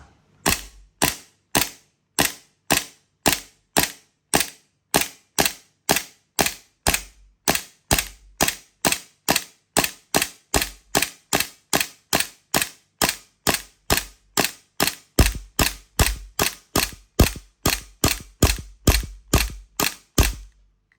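A Tokyo Marui Samurai Edge Hi Grade gas airsoft pistol fires shot after shot, roughly forty-five sharp snappy cracks at a steady, unhurried pace.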